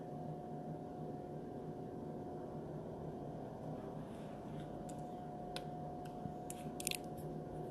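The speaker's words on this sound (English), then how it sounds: "so I can just cut it off." A few quick, crisp snips of scissors cutting near the end, faint and close against a steady low background hum, with no talking.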